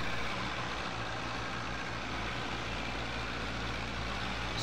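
Tractor engine in Farming Simulator 22 on a vintage farm, a steady, loud low rumble with a constant idling drone that runs unbroken the whole time, no other sounds over it.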